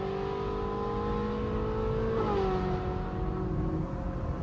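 A Ferrari 458 Spider's engine with its dual-clutch transmission holds a steady mid-range drone, then rises in pitch briefly before settling, heard from inside the car with no talking.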